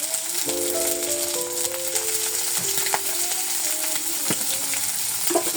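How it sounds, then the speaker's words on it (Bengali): Prawns seasoned with salt and turmeric fry in a pan, giving a steady, close sizzle. A spoon stirs them with a few scraping clinks and rattles, and no one speaks. "মাছটা ভালো করে ভেজে নেব"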